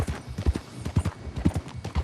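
A horse gallops in Red Dead Redemption 2, its hooves striking in a steady, rapid rhythm of loud, close thuds that carry on without pause and with no talk over them.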